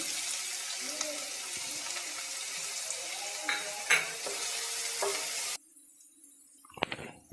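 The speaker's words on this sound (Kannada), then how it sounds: "ಅದೇ ಎಣ್ಣೆಗೆ ಕಟ್ ಮಾಡಿ ಇಟ್ಟಿರೋಂಥ ಈರುಳ್ಳಿ ಸೇರಿಸ್ತೀನಿ" Chopped onions hit hot oil in a pan, giving a steady sizzle with occasional stirring clinks, then the sound cuts to near quiet before a few brief knocks at the end.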